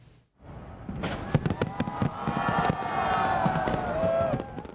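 Fireworks bursting over a huge New Year's Eve crowd at the Sydney Opera House, a rapid run of loud sharp cracks and booms over a steady crowd roar that swells throughout.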